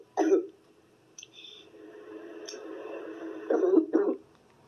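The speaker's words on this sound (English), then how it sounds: "And right now she's coughing." A woman's cough comes as a short burst near the start and another pair near the end, with a quiet, breathy stretch between them.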